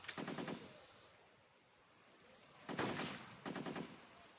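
Rapid automatic gunfire in the mobile sniper game Modern Sniper, two clusters of quick rattling shots separated by a quiet gap, fairly faint and with no talking.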